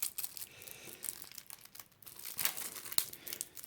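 A deck-building game's card pack wrapper being torn open, with close, irregular bursts of crinkling and ripping plastic and a few sharper snaps, no talking.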